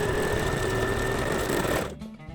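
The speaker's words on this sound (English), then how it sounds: "we sew 1/2 inch seam allowance. And then I go straight to the self fabric, the double gauze." Up close, a sewing machine runs loud and continuous through double gauze cotton fabric for a face mask, a steady whirring drone that stops abruptly near the end.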